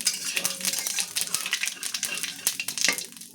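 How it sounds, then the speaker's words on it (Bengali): Whole cumin seeds crackle and sizzle in hot oil in a pan, a dense, close, continuous frying with small ticks and clinks of stirring and no voices. "জিরেটা আমি একটু লাল লাল করে ভাজা করে নেব।"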